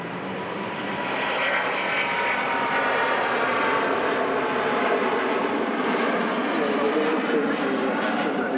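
A Gulf Air heavy jet taking off at Manchester Airport, a broad, steady engine roar that builds in the first second and then holds loud and constant, with a faint shifting whine on top.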